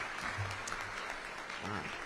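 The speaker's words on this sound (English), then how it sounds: "So if you could give them a round of applause" Audience applause in a ballroom at a humanitarian awards ceremony, a soft, distant sheet of clapping from a large crowd, with a voice speaking briefly over it.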